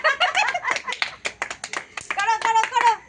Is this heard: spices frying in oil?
no